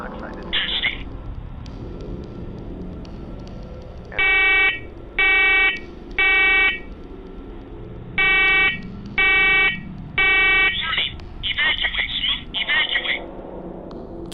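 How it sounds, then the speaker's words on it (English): Smoke alarm sounding in a basement in loud repeated bursts, a brief chirp, then two groups of three long beeps, followed by rapid stuttering chirps, with faint background noise between. "Keep in mind that this alarm has not gone off since the last time he went downstairs."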